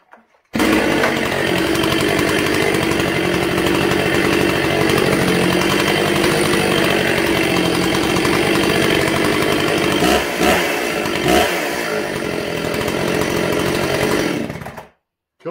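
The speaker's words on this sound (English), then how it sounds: "We're going to use what we got on this one because I want to try this saw" A chainsaw, one that flings bar oil, starts up and runs at a loud, steady roar for about fourteen seconds with a brief dip and recovery near the end before it stops, nearby and without voices.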